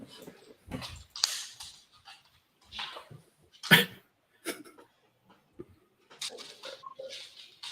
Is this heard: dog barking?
yes